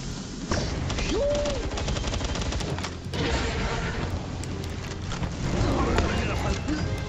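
Assault rifle fire in the video game Palworld, a dense, continuous stream of rapid shots and booms lasting throughout, mixed with other game effects and a voice talking over it.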